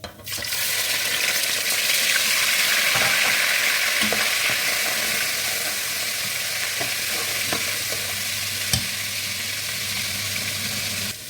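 Prawns fry in a hot pan for an onion stew while being stirred, a loud continuous sizzle broken by scattered clicks and scrapes of the utensil, with no speech.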